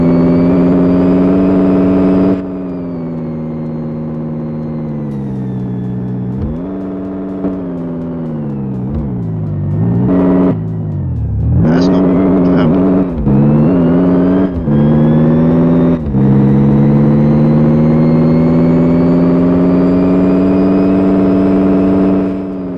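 A car engine in My Garage video game revs loudly and repeatedly, rising and falling in pitch with brief drops between pulls, strained at the top end.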